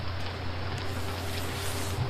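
Steady rain in the Relic Hunter Legend game, a continuous even hiss of falling drops with a low hum underneath, unbroken and without any voices.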